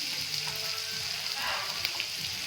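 Tomato and turmeric sauté in a pan with a continuous close crackling sizzle, and a faint stirring scrape comes through now and then.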